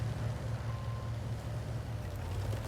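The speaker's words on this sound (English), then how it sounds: "He's so close he can hear our engines" Tank engines in a World of Tanks-style game drone steadily at a low pitch, a continuous heavy rumble running unbroken throughout.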